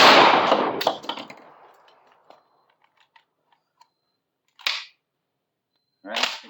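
Shots from a Panzer M4 tactical shotgun fired outdoors at a pumpkin: one loud blast opens with a fading echo, followed by faint clicks and then two more sharp reports spaced about a second and a half apart.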